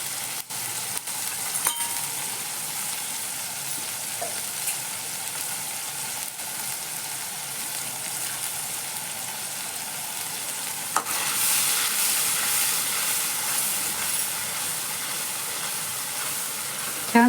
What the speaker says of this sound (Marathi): छान त्याचा कच्चेपणा जावंसर चांगलं परतून घ्यायचा आहे आपल्याला मसाला